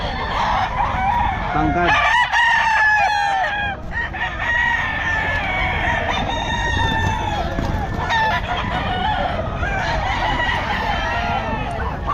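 Roosters crow repeatedly at a busy stag market in Bocaue, their overlapping calls loud and near across a constant crowd murmur, with a vendor calling out under the din.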